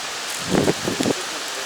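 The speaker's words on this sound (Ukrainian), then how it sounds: "Взагалі жесть, дивіться, тупо поливає." Dense, steady rain hisses throughout during a fishing trip, with two brief muffled bumps or murmurs rising above the downpour.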